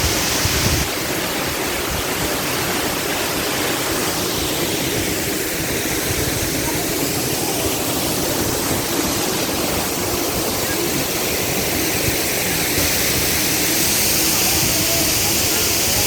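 The waterfall at Bassin Cormoran in St. Gilles pours in a constant, dense rushing roar that stays loud and even from start to finish, close to the listener.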